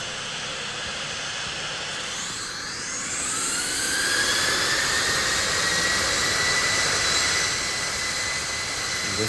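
In the Infinite Flight game, an Air France A318 jet takes off: a steady engine roar swells louder partway through, with a thin rising whine climbing above the rushing noise.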